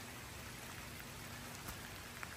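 Steady rain patters down continuously at a campsite, a dense hiss of drops with a few slightly louder taps, no voices.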